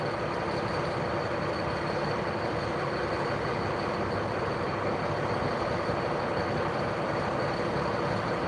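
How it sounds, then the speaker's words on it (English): A SWAT truck outside a sheriff station gives a loud, constant engine drone and road rumble that holds steady throughout, with no one speaking. "You see if the SWAT truck goes out."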